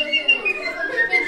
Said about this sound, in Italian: la prima cosa che ha fatto Polino fischia